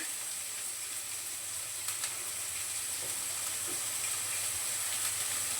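Chopped onion sautés in a pan for paneer bhurji, giving a steady, even sizzling hiss throughout with a few faint clicks of stirring, fairly close and with no voices.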